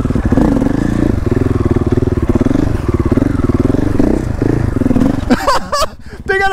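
A motorcycle rides through a fountain: a loud, close engine drones steadily at mid pitch, then a splashy, clattering burst near the end, with voices talking over it.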